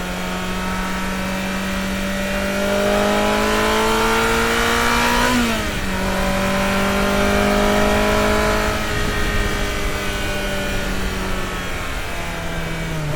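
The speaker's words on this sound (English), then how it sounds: "The howling of the induction system, coupled with the firing intervals of the flat plane crankshaft, help give this engine the iconic Ferrari V8 sound." A Ferrari F355's flat-plane crank V8 revs steadily, its induction howling loud and close. The engine note climbs, dips briefly at a shift-like break, then rises again in a smooth, high wail.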